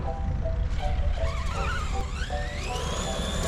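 A ZD Racing MX-07 RC car revs hard with whining, rising motor pitch and tire scrabble while attempting a double backflip, loud and continuous.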